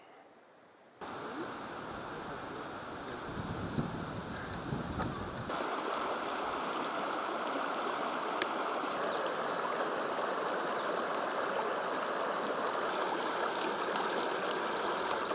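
Mara River water rushing steadily in Kenya, a broad, continuous roar of flowing water that starts quietly, then jumps to full loudness after a second and holds evenly throughout, with no voices.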